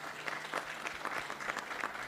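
Audience at a COP27 panel session applauds, a steady patter of many hands clapping at moderate distance, fairly quiet and continuous throughout.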